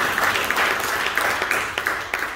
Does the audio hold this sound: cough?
no